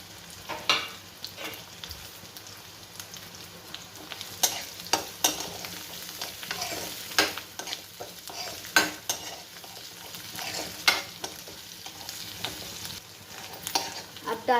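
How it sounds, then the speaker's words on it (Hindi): Onion, garlic, chili and ginger sizzle steadily in a pan while a utensil stirs them, giving scraping clicks and scrapes over a soft, continuous frying hiss. "और इसके बाद में हम डाल देंगे इसमें प्याज, लहसुन, मिर्ची, अदरक, और इनको हम अच्छे से भून लेंगे।"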